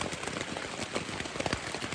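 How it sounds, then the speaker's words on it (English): Heavy rain pours down on a tent at night, a dense, steady patter of drops that fills the whole moment at a soft, even level. "Hear that? Heavy downpour."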